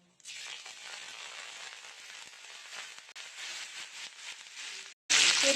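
Mustard seeds, urad dal, cumin, fenugreek and curry leaves sizzle and crackle steadily in hot sesame oil in a kadai, a continuous close hiss that briefly drops out, then returns sharply louder.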